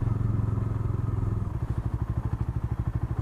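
A 2020 Bajaj Dominar 400 BS6 motorcycle engine runs close by. It starts as a steady hum, then settles into a loud, pulsing thump.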